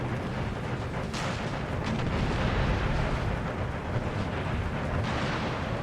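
Cannon volleys in Empire Total War: Darthmod battle, a dense continuous rumble of booming artillery fire with layered distant blasts and no clear gaps, loud throughout.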